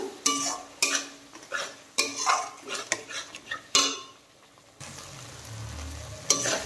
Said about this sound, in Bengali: টক দই দিয়ে দেওয়ার পরে আরেকটু ভালো করে নেড়ে চেড়ে কষিয়ে নেব।